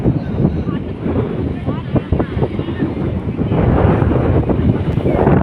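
Strong wind buffets the microphone at Manapad beach in Tamil Nadu with a loud, rushing roar that swells toward the end, and faint surf is audible beneath it.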